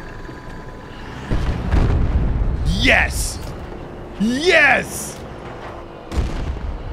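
A grenade launcher blast destroys a tank in Battlefield 2042, giving a few sharp booming explosions amid game noise, with a player's excited shout and chatter over them.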